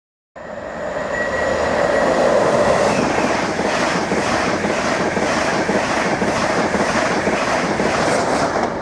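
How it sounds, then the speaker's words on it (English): An Intercity 225 express races past at speed, a loud sustained roar of wheels and rushing air with rhythmic rail clatter that holds steady throughout, no voices. "we've just had an Andania Intercity 225 race past and one of Network Rail's Class 153 inspection units following behind"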